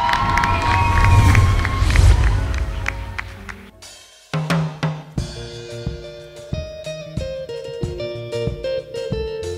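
A live audience at a Zambian music show cheers and shouts loudly, including children's voices, before it gives way to the performer's band starting up with punchy, rhythmic music.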